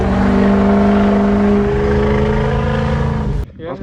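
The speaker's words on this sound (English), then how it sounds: "5-inch full MBRP straight pipe." A Dodge truck fitted with a 5-inch MBRP straight pipe exhaust idles with a loud, steady, deep rumble that cuts off sharply near the end.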